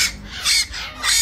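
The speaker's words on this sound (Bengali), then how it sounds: "ময়না পাখিগুলো অসাধারণভাবে খাবে" Caged mynah birds of Chittagong stock, feeding, give three loud, harsh squawking bursts in quick succession, close by and with no voices.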